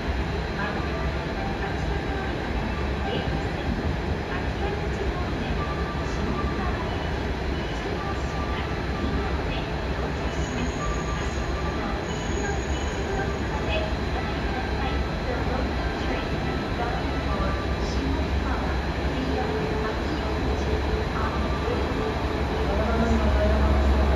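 A four-car train rumbles steadily, close by at a station platform in Hiroshima, with a low mechanical drone and a faint high whine running throughout.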